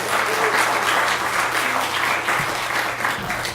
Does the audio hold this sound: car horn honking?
no